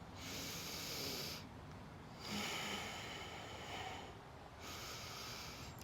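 Slow, deep breaths drawn in and out through the nose during a chair yoga session, in three long hissing waves, close and steady with no talking.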